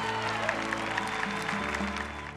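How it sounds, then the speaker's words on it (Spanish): Church congregation applauding during a sermon, a steady dense clapping spread across the room, moderately loud, with sustained organ or keyboard tones held underneath throughout. "Un aplauso."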